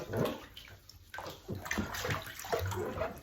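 Water splashes and sloshes close by as feet are rinsed in a basin with essential oil, giving continuous irregular wet splashing with small drips and gurgles.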